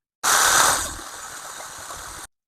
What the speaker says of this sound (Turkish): Şimdi bununla beraber çırpacağız.